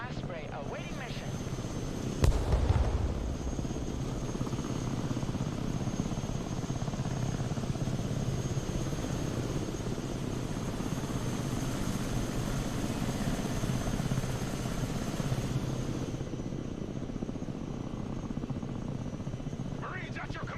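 Osprey tiltrotor aircraft in Broken Arrow, a continuous loud rotor-engine drone with a steady whine that holds throughout and eases near the end, while voices talk over it.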